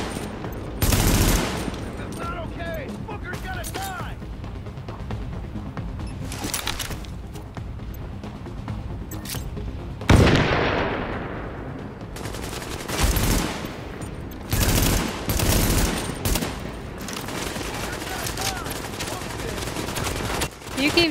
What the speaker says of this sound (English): You keep shooting, and continue shooting until you run out.